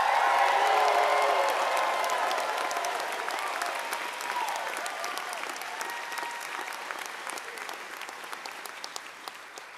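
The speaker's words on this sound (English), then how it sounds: "Parents, again, give our colleagues a round of applause." Sustained applause from a commencement audience of graduates' families for the College of Medicine, loud at first and slowly fading over the ten seconds, with scattered whoops and cheers mixed into the clapping.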